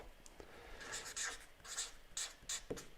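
Marker strokes squeak and scratch across paper during a graphic-recording lettering session, in a string of short bursts with brief pauses between them, close and fairly soft, with no voices.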